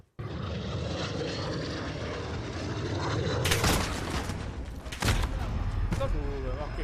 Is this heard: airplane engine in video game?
yes